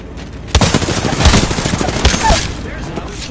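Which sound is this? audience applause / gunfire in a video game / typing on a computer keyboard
gunfire in a video game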